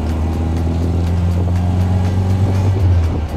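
Pete's open-top car cruises along on a sunny day, its engine giving a loud, steady low drone close by, with no speech over the running motor.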